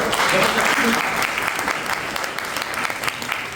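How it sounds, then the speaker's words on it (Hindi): An audience at a business success event applauds for Rekha Singh, a broad steady wash of clapping that runs the full length, fairly loud and slowly easing off. "उनके लिए ताली बजा सकते हो।"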